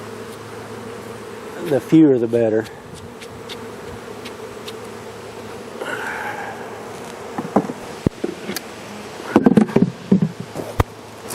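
Honeybees buzz around a hive as they are brushed off in front of it, a low hum with scattered louder buzzing bursts, while someone talks briefly.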